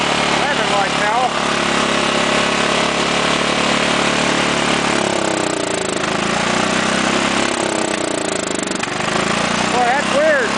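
A Craftsman lawn tractor engine runs hard and revs high with a continuous loud, buzzing drone, its pitch wavering and dipping partway through, close to the microphone while someone talks over it.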